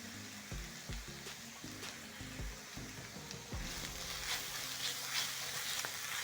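Rice stir-fried in a pan with carrots, black pepper and salt, giving a steady sizzle with soft scraping and tossing knocks. The sizzle stays close and even, and it grows a little brighter in the second half.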